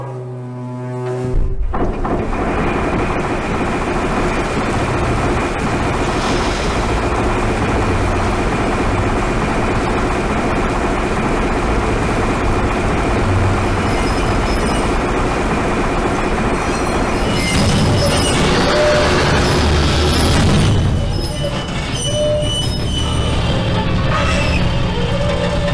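Big chain mechanism in a survival horror video game, grinding and rumbling loudly and continuously as it hauls something up, with metallic clanks and a harsh burst near the end.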